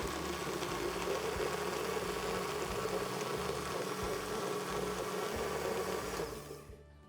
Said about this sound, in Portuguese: E então nós vamos bater.